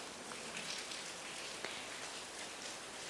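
Steady rain falls on an evening, a faint, continuous hiss of drops pattering on surfaces with no voices.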